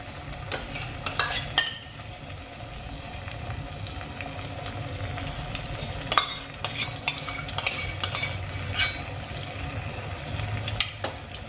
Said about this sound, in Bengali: এবার আমি এর মধ্যে দিয়ে দেব 2 চামচ ফেটিয়ে নেওয়া টক দই।